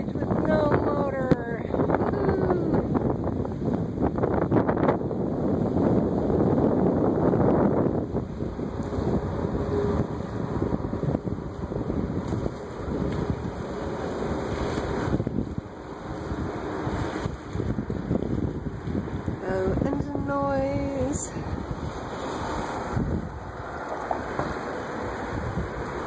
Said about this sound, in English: are sailing through the bridge with no motor